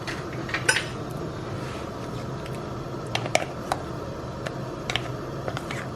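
Chicken pasta ingredients being mixed together in a dish, with light clinks and taps of a utensil against the dish over a low, steady background, close and fairly quiet, with no speech.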